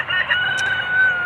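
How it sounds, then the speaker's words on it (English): A rooster crows in one long strained call near a screenhouse built from an old duck pen door, loud and close, alone. "excuse the rooster"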